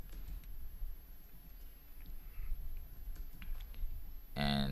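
Login credentials are typed on a computer keyboard, a string of light, quick key clicks at a moderate distance over a faint hum, ending in a brief louder tonal sound.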